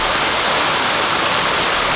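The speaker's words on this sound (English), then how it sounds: "there's a high water flow here, so good aeration is happening right here for sure" High-flow water pours loudly into a koi pond in a koi shop in Saigon, a dense, close, unbroken rushing roar with no talk.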